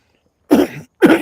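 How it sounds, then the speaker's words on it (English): A man with a respiratory virus coughs twice in quick succession, close and loud, against near silence. "pardon the coughing."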